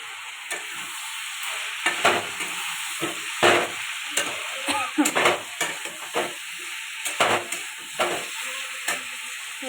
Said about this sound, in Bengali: জিরে বাটা মশলা দিয়ে এটা ভালো করে কষাতে থাকবো